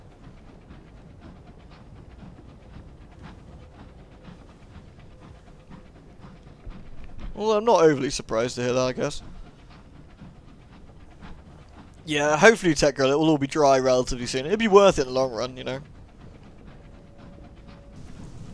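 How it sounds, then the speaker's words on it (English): Low, steady rumble of a train running in the Sunless Skies video game, faint and continuous under someone talking at length. "Train sounds are calming, aren't they?"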